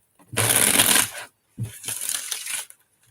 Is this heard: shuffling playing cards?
yes